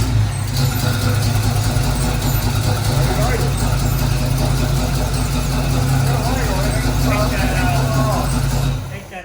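A 1968 Chevy K10 pickup's engine running steadily at close range, a loud, continuous low rumble that holds throughout and cuts off at the very end, with people talking over it.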